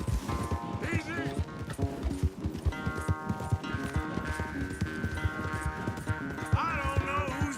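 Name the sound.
horse galloping in a race, from video game Red Dead Redemption II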